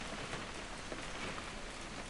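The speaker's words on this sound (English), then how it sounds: "It's gonna rain the whole weekend, isn't it?" Steady rain falls in the video game What Remains of Edith Finch, a soft, even hiss of drops with no breaks, faint and close, heard alone with no talking.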